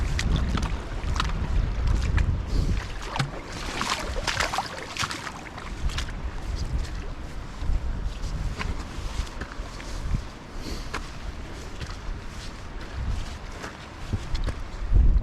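Gusty wind buffets the microphone while wild camping in heavy rain. It makes a rushing, rumbling roar that rises and falls, along with scattered sharp knocks and rustles.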